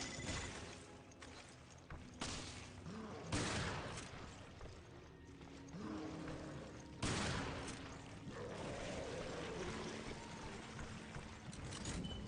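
Enemy gunfire in the video game Resident Evil: Revelations, bursts of shots and rattling fire coming in uneven waves under a constant game background hum, moderately loud and somewhat distant.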